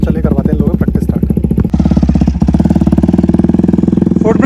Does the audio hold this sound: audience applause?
no